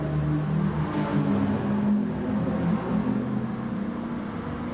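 An Audi A4 touring car engine drones steadily in a GT Sport race at Brands Hatch Indy, a continuous loud mechanical hum with slight pitch shifts as it accelerates, heard alone.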